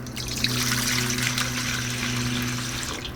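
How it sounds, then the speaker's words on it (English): Tap water is poured from a container in a steady, continuous trickling stream, close and even, with a low hum underneath and no talking. "This is just my tap water, but I'm just gonna pour a little bit."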